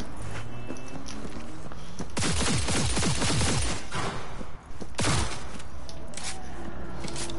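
An automatic weapon firing in the video game Cyberpunk 2077, loud bursts of rapid gunfire over a constant bed of game background noise, with a second burst a few seconds after the first.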